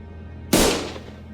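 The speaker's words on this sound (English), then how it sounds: "Gunfire filled my ears." A single sharp gunshot cracks out in the video game Limbus Company, Canto III, loud and close. Its echo fades away over about half a second, and no one speaks.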